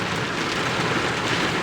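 Heavy rain at a festival drums steadily and loudly on a surface, a dense continuous hiss close by, without pause or voices.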